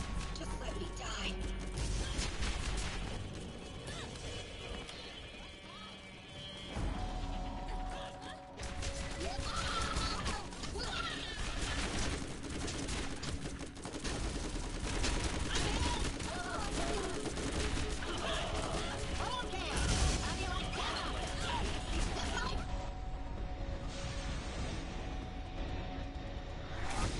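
Bandits attack Tartarus Station in Borderlands with bursts of gunfire, clattering mechanical noises and crashes spread over a long stretch, with characters talking throughout beneath the shooting.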